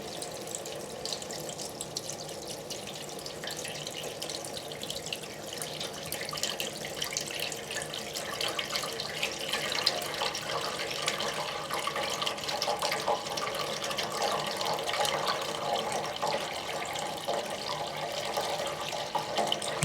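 Water running steadily into a sink while being filtered, a continuous splashing, gurgling stream with faint drips, moderately quiet and unbroken for the whole stretch, with no one talking.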